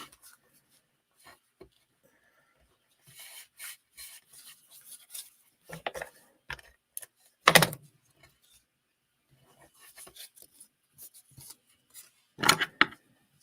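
Scissors trimming cardstock for a handmade double gatefold greeting card, with short sporadic snips and paper rustles, close and isolated, separated by quiet pauses and a few sharper crisp cuts.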